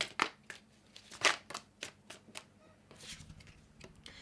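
Tarot cards being shuffled in a series of crisp riffles and soft slaps, close and fairly quiet, with short pauses between bursts.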